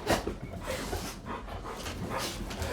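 Dogs pant and whimper close by in a home kitchen, with steady rapid breathing, soft whines and a faint bark-like yelp amid room noise.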